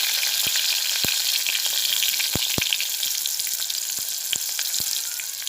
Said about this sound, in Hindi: अब मैं इसे प्याज को हल्का गोल्डन होने तक तलूंगी